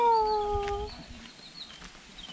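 A puppy on the trail at Little Adam's Peak in Ella, Sri Lanka gives a brief high whine or howl that fades after about a second, followed by quiet outdoor ambience.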